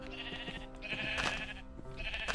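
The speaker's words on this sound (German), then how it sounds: "Und da ist ein Schaf." A Minecraft sheep bleats several times in short, nasal cries, clear and close, with little else around.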